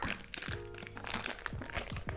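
A sealed, airtight garam masala spice packet is worked at to get it open, giving close, loud bursts of crinkling and crunching plastic foil in quick irregular handfuls.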